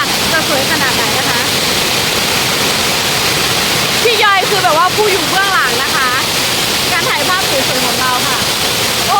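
A waterfall in northern Thailand's Mai Kai falls, first tier, roars steadily and loudly throughout, while people talk over the rushing water.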